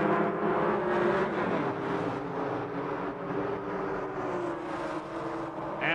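Drag race launch between a six-cylinder Ford Pinto with a 351 Cleveland-headed 300 engine making 500 HP and a heavy V8 car, engines roaring loudly and steadily throughout with no talk.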